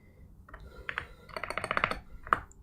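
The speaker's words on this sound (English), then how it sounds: "I also like to use my wireless keyboard to do this, or else it's super tedious." Typing on a wireless computer keyboard, starting with scattered single key presses and building into a quicker run of close, crisp clicks, ending on one sharper keystroke, with no voices.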